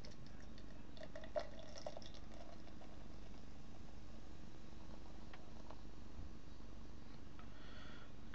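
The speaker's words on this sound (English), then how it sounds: "Okay, it's pouring up quite well." Boag's Draught lager pouring from a twist-top bottle into a glass, a steady soft liquid gurgle and fizz running the whole time with one small clink near the start, no speech.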